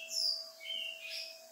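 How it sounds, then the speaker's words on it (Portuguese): A bird sings outside with a few thin, high chirps and short whistled phrases, fairly faint and distant over a steady low indoor hum, with no one speaking. "Hoje tem um pássaro ali fora cantando"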